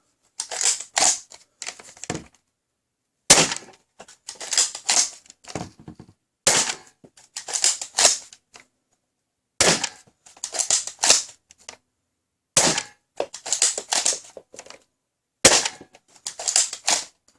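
A Rhinoceros BJ.02 toy blaster fitted with an expanded plunger tube fires Max Darts in quick bursts of sharp snapping shots, with clacking priming sounds between volleys and short silent pauses.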